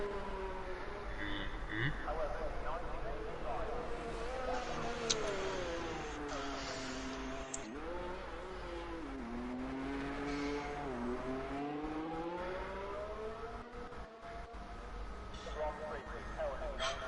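Engines of a pack of F1 cars racing in a video game at Belgium, a steady droning whine that rises and falls as the cars bunch together, running continuously under a commentator's voice.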